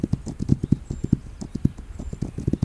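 Horse hooves clip-clop in a rapid, even rhythm as a fast horse gallops across terrain in the video game This Land Is My Land, close and continuous throughout.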